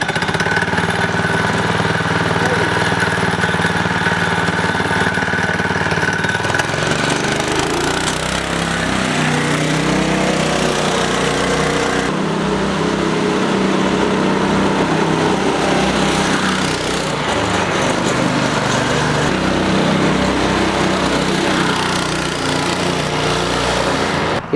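A go-kart's small engine runs loud and steady nearby, its pitch rising and falling as it revs and settles, with no voices over it.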